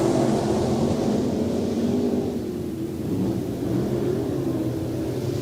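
IMCA Northern Sportmod race cars rumble together at the start of a heat race at Off Road Speedway, a steady, fairly loud blended engine roar with no clear individual passes.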